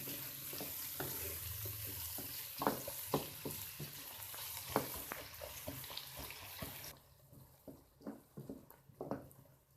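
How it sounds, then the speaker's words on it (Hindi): Onions frying in oil in a home kitchen pan, a steady soft sizzle with repeated scraping stirs, fairly quiet and close, with no talking. "प्याज का कलर सुनहरी होने तक इसे हम फ्राई करेंगे।"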